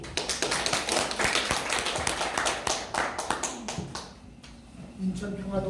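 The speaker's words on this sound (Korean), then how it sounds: "먼저 마이크를 쓸 텐데 뜨거운 박수로 환영해 주시면 좋겠습니다." An audience at a unification and democracy forum in Korea gives a welcoming round of applause, crisp close claps that thin out toward the end as a voice begins.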